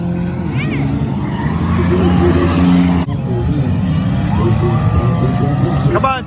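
A turbocharged LS-swapped Caravan roars through a burnout at a local competition, engine revving hard with tire squeal and skidding, loud and close, with people talking and cheering over it.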